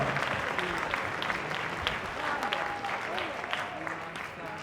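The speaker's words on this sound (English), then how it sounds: "Let's give them another round of applause." Audience at an evening movement-building event gives a round of applause, sustained clapping from a sizeable crowd with some voices and cheers mixed in.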